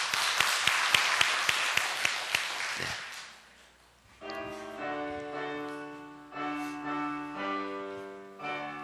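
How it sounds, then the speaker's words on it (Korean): A church congregation claps together in a quick, even rhythm for about three seconds, then the clapping stops and soft sustained music with bell-like tones takes over. "자, 박수 해주세요"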